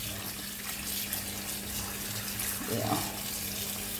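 Ackee is rinsed under a running kitchen tap, a steady close hiss of flowing water with a slight splash change near the end and a brief voice.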